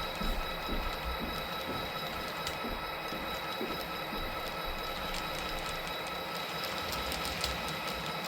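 A model railroad train backs slowly down a yard track, with a steady mechanical hum and soft, regularly spaced wheel clicks, quiet and close throughout.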